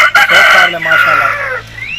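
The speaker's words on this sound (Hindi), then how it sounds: "राजा शहराज साहब का दूसरा मुर्गा है।" An Aseel rooster gives one loud, close crow that lasts about a second and a half and then trails off.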